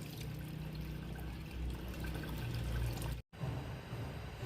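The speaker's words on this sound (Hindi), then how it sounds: "और मैं गोश्त विच पानी पावांगी।" Water is poured onto washed beef in a pot while making beef pulao, a steady, fairly quiet rushing flow with a brief break before it resumes.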